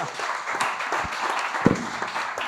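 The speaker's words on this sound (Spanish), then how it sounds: "un fuerte aplauso para ellos" An audience at a comic convention debate panel, Santa Cruz Cómic 2022, applauds in a steady, dense wash of clapping. It stays fairly even throughout, with one sharper clap standing out near the end.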